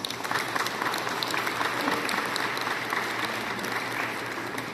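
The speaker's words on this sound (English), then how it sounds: "I think all of you deserve a round of applause" A large audience claps steadily and loudly at the PHITEX 2022 launch of the Philippine Travel Exchange, a dense sustained wash of many hands with no voices over it.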